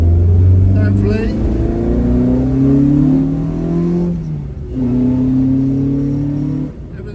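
A Ford Mk1 Escort engine revs and pulls through the gears on a road drive, loud and close from inside, with rising and falling engine tones and a brief lift-off between gear changes.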